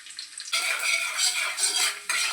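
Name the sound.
chopped ginger and garlic frying in hot oil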